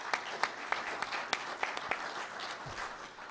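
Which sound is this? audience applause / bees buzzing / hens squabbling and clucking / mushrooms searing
audience applause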